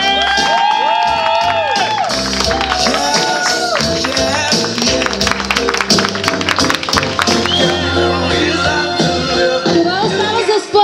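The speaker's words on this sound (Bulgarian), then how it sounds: "Още веднъж аплодисменти." Cheering and shouting from guests at a Bulgarian wedding ritual, loud and continuous with music playing underneath and people calling out throughout.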